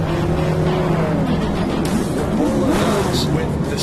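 A TORC off-road race truck engine screams above 6,000 rpm, its pitch sweeping up and down, with tire noise and a voice faintly mixed in.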